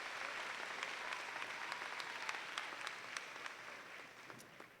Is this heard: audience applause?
yes